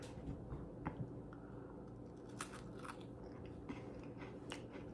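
Quiet crunching bites into a Ritz cracker topped with Swiss cheese crab spread, several crisp cracks and chewing sounds close up with no talk.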